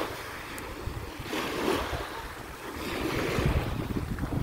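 Sea surf at Guinsiliban beach, Camiguin Island, rolls in as a steady broadband wash that swells in two soft surges, mixed with gusty wind buffeting the microphone, with no talk over it.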